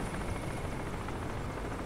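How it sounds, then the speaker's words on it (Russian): A helicopter in the video game Crysis gives off a steady, faint rotor and engine drone with broadband wash, distant and unbroken, with no talk over it. "Вертолет, где он?"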